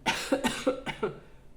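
A person coughs several times in a quick burst, four or five close harsh coughs fading out at the end.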